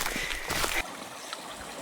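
A mountain stream trickles and splashes steadily in the forest during a hike, with a louder burst of running water up front that settles into a softer, continuous flow.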